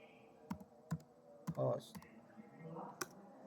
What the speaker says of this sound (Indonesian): Kita ketik localhost.